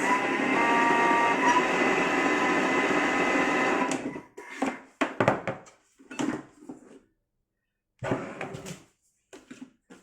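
An electric mixer whirs loudly through keto blueberry cheesecake filling in a kitchen, a steady motor drone for about four seconds that cuts off abruptly, followed by scattered soft clatter and a few spoken words.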